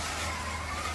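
Scalextric Ford Escort slot car running on its track, a steady high electric motor whine with a constant whirring drone, close and continuous.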